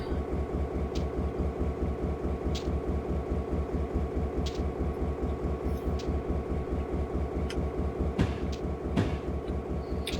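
Alaska Railroad GP38 diesel locomotive in Train Simulator 2018 at Portage Whittier Yard: a steady, loud, pulsing engine drone holds throughout, with a few brief higher clanks near the end and no talking.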